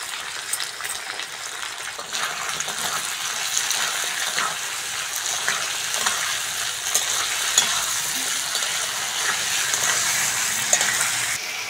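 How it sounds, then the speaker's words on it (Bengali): Cumin and spice paste frying in a pan for a Bengali prawn and eggplant chorchori, giving a steady close sizzle with soft stirring scrapes and no gaps. "জিরে আর চন্দনীটা ভালো করে ভেজে নিয়েছি"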